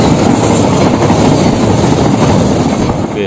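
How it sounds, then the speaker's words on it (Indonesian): A freight train rolls past close by, a loud steady roar of wagons with rhythmic wheel clatter and a faint squeal, no talking. "kita abadikan dulu kereta api yang lewat ini ya guys. Kereta barang guys"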